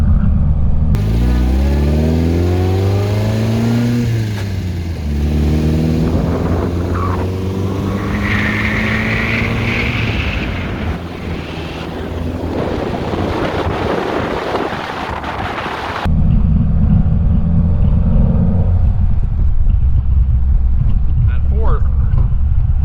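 A 1955 MG TF 1500 engine revs and accelerates through first, second and third gears, pitch climbing then dropping at each shift, with heavy wind noise and someone talking throughout.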